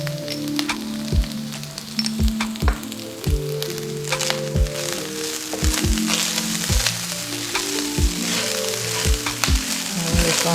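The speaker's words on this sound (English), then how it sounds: "I'm just going to let that saute." Ginger paste sautés in a hot pan as part of a fried rice dish, giving a loud, steady sizzle dotted with frequent sharp crackles and pops throughout, with no talking.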